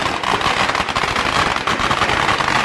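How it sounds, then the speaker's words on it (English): Firecrackers set off along a beach by the sea during a ceremony honoring sea spirits in Hua Hin, Thailand, crackling and popping in a dense, continuous loud barrage with no gaps. "the firecrackers that are stationed along the beach are ignited"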